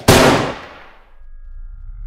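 One sharp gunshot cracks loudly at the start, then its echo decays into near silence over the next second.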